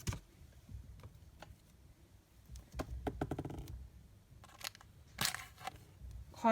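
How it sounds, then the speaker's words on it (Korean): Scissors cut open the packaging of a BT21 poster indoors, giving quiet, scattered snips, crinkles and crunches in short irregular bursts with pauses between them. "가위로 잘랐습니다."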